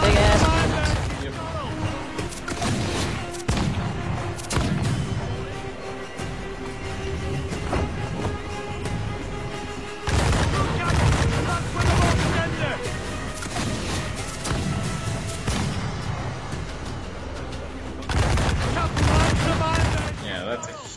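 Heavy cannon broadsides from sailing warships in a naval battle game, dense overlapping booms and crashes rolling continuously for about twenty seconds, loud and close, with fresh volleys erupting near the 10 and 18 second marks.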